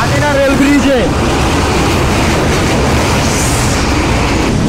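Padma Express intercity train crossing the Ghatina rail bridge at speed, a loud, continuous rumble and clatter of wheels on track filling the whole stretch, with a brief voice near the start.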